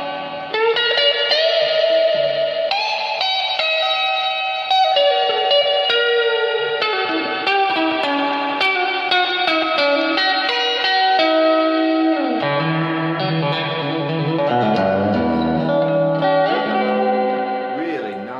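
Electric guitar through the spring reverb of a VOX VT40X modelling amp, a sequence of picked notes and chords with a splashy, lingering tail, played alone.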